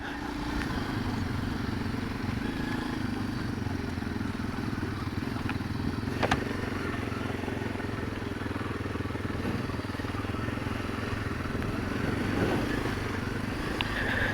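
Motorcycle riding up a mountain road to Doi Soi Dao, the engine droning steadily and loud throughout with constant rumble and wind, no talking.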